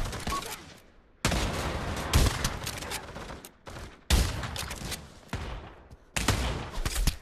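Gunfire in the Pavlov VR shooter game, with repeated loud bursts of shots and rapid volleys that start and stop abruptly and pause briefly between bursts.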